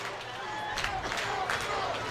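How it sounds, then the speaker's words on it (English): The home Blue Streak crowd cheers at a high school football game between Lorain and Sandusky, a steady roar of distant voices filling the stands with a few swells of louder shouting, while a commentator talks over it. "This Blue Streak crowd making some noise for their team"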